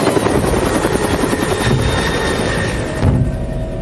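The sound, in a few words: pursuing planes and helicopters flying away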